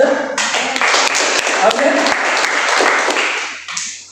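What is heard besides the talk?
congregation clapping for God in church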